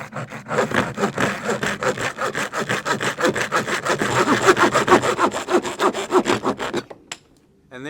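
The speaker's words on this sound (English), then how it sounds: "Very simple and easy to cut, even with a hacksaw." A small hacksaw cuts through PVC pipe for a homemade hydroponic system with rapid, steady back-and-forth rasping strokes, close and loud, ending abruptly as the cut finishes near the end.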